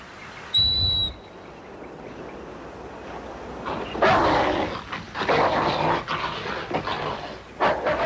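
A short, shrill whistle blast given as a command to a dog, sounding once near the start, followed by rustling movement and scuffling noises.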